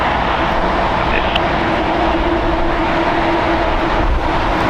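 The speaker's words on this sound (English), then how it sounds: "Japan Airlines Flight 16 landing on the north side, coming in from Tokyo, Haneda" A Japan Airlines Boeing 777-300ER, 18 years old, landing at LAX after a flight from Tokyo Haneda gives a steady, loud broadband jet roar with a sustained engine tone throughout, alone with no voices.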